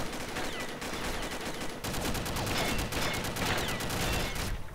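Rapid automatic gunfire in the shooter game Combat Arms, dense continuous bursts of shots for nearly five seconds, loud and close, with one brief break partway through.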